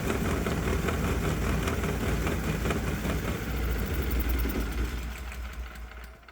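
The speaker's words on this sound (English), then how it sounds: "watch how long the engine runs after I command the injector to stop squirting fuel" A 212cc Predator small engine on a homemade fuel injection setup runs with a steady rapid chugging after the injector is cut, then sputters, fades and stalls into quiet near the end; close and loud, no talking.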